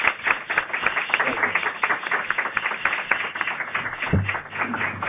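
Audience applause welcoming a speaker at a panel discussion in Santo Domingo, Dominican Republic: dense, steady clapping from a crowd filling the whole stretch, fairly loud and close, with a brief low thump near the end.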